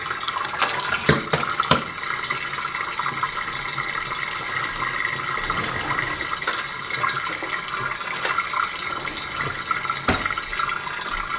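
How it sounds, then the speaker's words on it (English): Water draining out of a pot in a home kitchen, a steady trickling and gurgling flow with a few sharp clinks and knocks scattered throughout, fairly close. "First thing I'm going to do is let the water out, just to make things easier on me."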